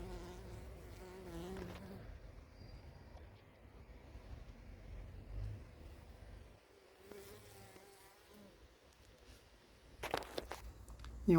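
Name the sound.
honeybees buzzing around a hive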